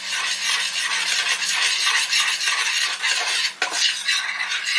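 Flour stirred into olive oil and butter in a pan with a utensil, a close, continuous scraping and rubbing with a soft sizzle underneath and a brief pause near the end.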